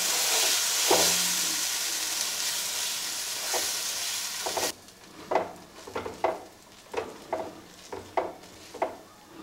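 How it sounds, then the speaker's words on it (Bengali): Dosa batter poured onto a hot oiled tawa for masala dosa gives a loud, steady broadband sizzle for several seconds, then drops to quieter frying with a series of soft scraping or spreading strokes. "তাওয়াটা আমার গরম হয়ে গেছে, দিয়ে দিচ্ছি ব্যাটারটা।"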